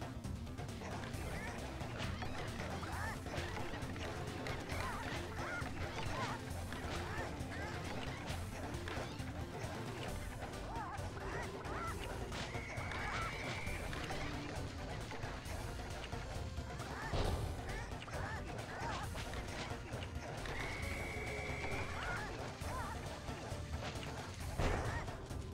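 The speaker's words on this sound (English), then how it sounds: "He's promised us a key if you can whack 50 chickens." Chickens being whacked in the Sly Cooper game Vicious Voodoo level, repeated smashing and thwacking hits mixed into a dense, busy game soundtrack with constant background effects.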